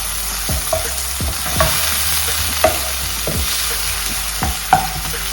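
Onion, tomato and green chilli being stirred and sautéed in a pan for egg bhurji, with a steady low sizzle under repeated scraping strokes of a spoon at an uneven rhythm, close and moderately loud, no talking.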